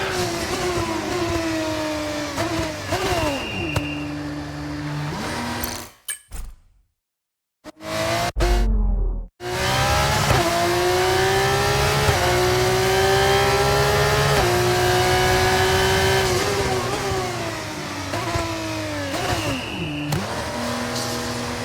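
Formula 1 race car engine in the F1 2024 video game, a loud high-pitched whine climbing through repeated upshifts, cutting out briefly mid-way, then revving back up and accelerating hard through gears.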